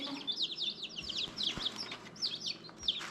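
Baby chicks chirp in a steady flurry of high, quick peeps, several birds overlapping close by with no voices.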